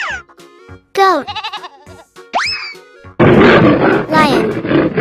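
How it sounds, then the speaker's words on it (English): A lion roar sounds as a loud, rough, sustained burst in the second half, following several bouncy, whistling cartoon-style tones. "Lion."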